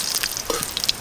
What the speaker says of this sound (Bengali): গরম তেলে শুকনো লঙ্কার 5 ফোড়ন দেব